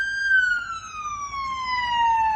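Tsunami warning siren sounding after a magnitude 7.4 earthquake, a single loud sustained wailing tone slowly falling in pitch across the whole stretch, with faint background rumble.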